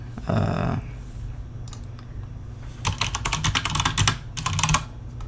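Keys clack on a Logitech G710+ mechanical keyboard, a brief burst early, then rapid bursts of close, crisp typing in the second half.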